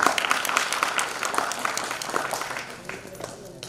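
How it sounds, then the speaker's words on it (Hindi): Audience applause for a children's stage performance at an award ceremony, a dense, steady crowd clapping that fills the clip and fades slightly toward the end, with voices faintly mixed in. "मैं चाहता हूँ एक बार इनके लिए तालियां बजा दी जाए"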